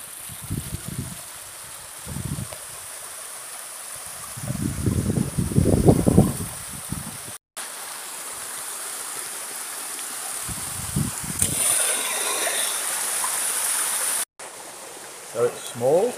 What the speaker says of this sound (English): it has cold flowing water through it